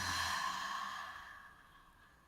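A single slow exhale during a morning breathing exercise, a soft breathy sigh that starts fairly close and gradually fades over about two seconds.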